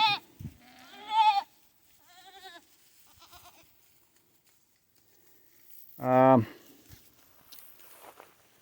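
Goats bleat several times nearby, a cluster of shaky cries early on and then one loud, quavering bleat after a pause.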